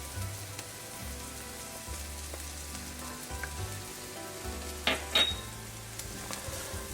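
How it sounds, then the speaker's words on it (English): Paprika sautés with turmeric in a hot pan while calamari adobo is being made, giving a constant, close sizzle and frying crackle, with a few louder bursts of stirring partway through. "I saute it for 30 seconds. Next, I am going to add half a teaspoon of paprika."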